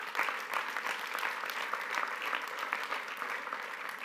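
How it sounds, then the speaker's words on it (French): Applause from an audience at a political conference's closing session, a dense, even patter of many hands clapping at moderate distance, steady for a few seconds. "Vous pouvez l'applaudir."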